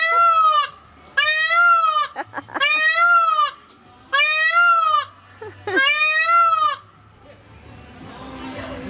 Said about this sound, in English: The goats are probably so annoyed.